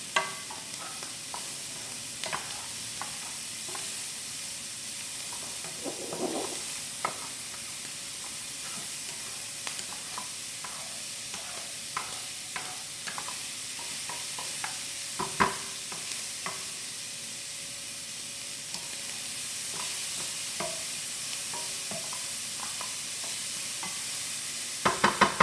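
A quarter-teaspoon measure of an ingredient fries and sizzles in a pan for penne carbonara, with steady soft sizzle and repeated scraping stirs throughout, moderately close and without talk.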